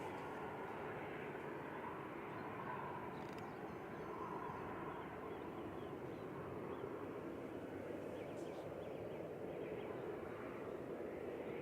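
A Norwegian Boeing 737-800 airliner at Manchester Airport makes a faint, steady distant jet roar that holds evenly throughout, with no talk over it.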